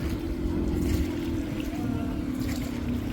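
Motor boat ride for a large group, a steady low engine drone with faint water sounds running continuously and evenly throughout.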